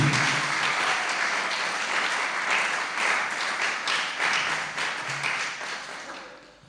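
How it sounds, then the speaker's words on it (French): A church congregation bursts into loud, sustained applause praising the Lord, dense clapping filling the room and slowly fading toward the end. "Est-ce que nous pouvons acclamer très fort pour la gloire de notre Seigneur Jésus?"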